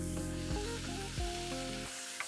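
Onion, celery, carrot and garlic mirepoix sweating in a pan for a braised beef short rib ragu, a soft, even sizzle under a steady tonal hum with a few dull knocks.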